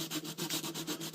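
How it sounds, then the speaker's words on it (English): Light hand sanding on a wooden guitar bridge during a repair, heard as a close, soft, rhythmic rasp of back-and-forth strokes, about eight quick passes with no talk. "just a little light sanding here to kind of even everything back out, level everything off"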